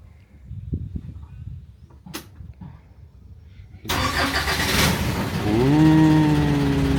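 A car engine cranks and catches after a quiet stretch with a few small knocks, then settles into a steady, close idle that holds loud and even to the end.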